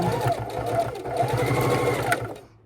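A sewing machine stitches quilt binding in a fast, steady mechanical whir that runs close and loud for about two seconds before stopping, with a voice heard over it.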